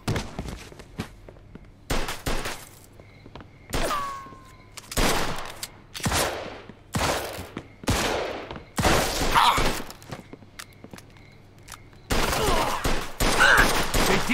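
Gunfire in Mafia II, a volley of sharp shots in repeated clusters across a gunfight, loud and close with brief quiet gaps between the bursts.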